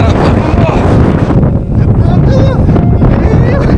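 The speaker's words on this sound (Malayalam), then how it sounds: "കാറ്റൊന്ന് കുറഞ്ഞിട്ട്" Strong wind buffets the microphone with a loud, constant low roar on a misty hill estate at Thalanar, Valparai, while a voice talks faintly underneath.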